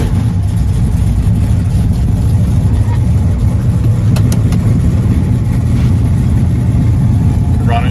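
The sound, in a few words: 1967 Chevelle SS 427 engine starting and idling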